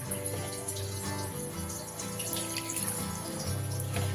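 Water is poured from a container into a simmering pointed gourd curry in a pan, giving a soft, continuous trickling and splashing that stays fairly faint throughout.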